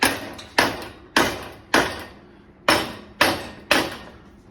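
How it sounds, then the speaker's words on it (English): A mallet strikes parts of a Schwinn Mean Street bicycle, seven loud close ringing whacks at a steady rhythm, each followed by a short metallic decay. "we're just hitting it with the mallet"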